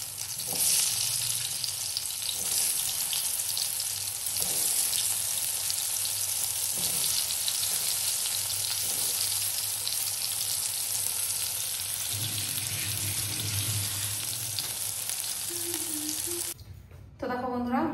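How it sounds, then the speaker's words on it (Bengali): Pointed gourd (potol) slices frying in hot oil in a home kitchen, a steady loud sizzle running throughout with occasional stirring clatter, stopping near the end. "পটলটা ভেজে নিই"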